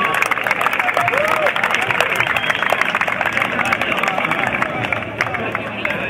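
An indoor crowd applauds a futsal player from Fondi as he is presented to fans, with steady clapping and some cheering over a constant hubbub of voices and loud speech running through the whole stretch.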